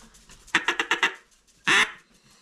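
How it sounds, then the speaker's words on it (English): Double reed Duck Commander duck call blown in a quick run of five sharp quacks, then one longer, louder drawn-out quack after a short pause, close and clear with no talk. "So it's a double reed Duck Commander duck call, works really well."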